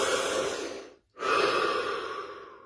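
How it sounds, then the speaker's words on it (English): A single deep breath taken slowly in, a short pause of silence, then a long, soft exhale fading out, close and alone. "Deep breath."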